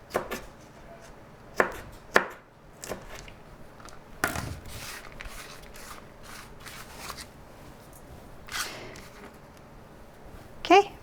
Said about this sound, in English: That honestly takes the most time, is the coring and the chopping of the banana peppers.